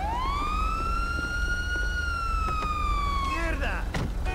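Police car siren in the GTA 5 video game, a loud sweeping wail rising and holding steady before cutting off near the end, with engine hum and a brief clatter underneath.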